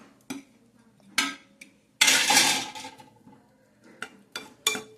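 Utensil scrapes and clinks against a pan as methi malai pavta is stirred and mixed, with irregular bursts including a longer scraping stir, and no talk.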